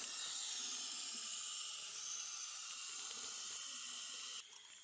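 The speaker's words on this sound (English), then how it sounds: "Gently water. Don't wash away the newly shaped mound. Okay, just let it slowly water." A garden hose slowly waters a newly planted Hass avocado tree, giving a steady, soft hiss of running water that drops abruptly near the end, with no talking.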